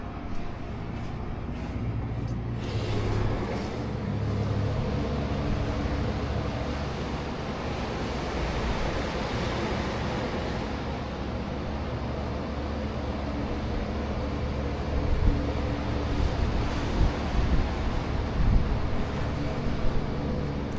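Broad steady surf wash from ocean waves breaking on a beach at Daytona, Florida, with wind rumble on the microphone throughout and a few louder gusts near the end; no one speaks.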